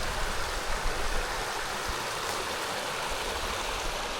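Creek water rushing continuously in Pisgah National Forest, a dense, even wash of flowing noise with no breaks, heard from nearby with no voices.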